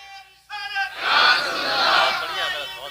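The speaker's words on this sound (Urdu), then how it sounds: "ایک نعرہ کوئی لگائے درمیان سے, ذرا ہاتھ اٹھا کے جواب دیں" A crowd at a religious gathering roars back a slogan in unison, a loud swell of many voices that follows a brief lead call and sustains for about two seconds before fading.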